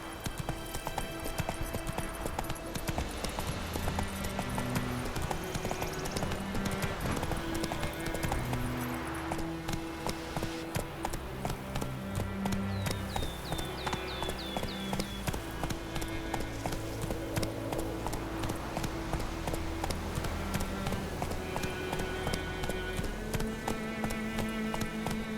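Roach the horse gallops in The Witcher 3 game, with fast, steady, evenly spaced hoofbeats that continue throughout over a constant bed of background game music.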